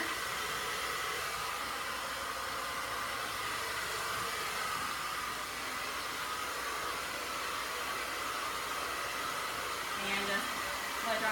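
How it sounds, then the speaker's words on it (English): A hair dryer blows in a steady, loud rush of air while hair is being blow-dried straight down, a constant hiss holding throughout with a slight shift near the end. "And just blow drying straight down."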